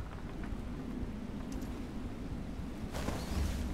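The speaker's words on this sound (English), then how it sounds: "Bye bye storm." A thunderstorm at sea in the video game FAR: Changing Tides, with steady rain hiss and a low rumble, and a brief rising surge of rain or thunder near the end, with no talking.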